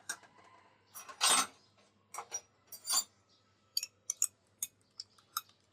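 A spoon clinks and scrapes against a cup while stirring agar powder into a few spoonfuls of cold milk, giving scattered, close, quiet metallic taps and short scrapes in an otherwise silent kitchen.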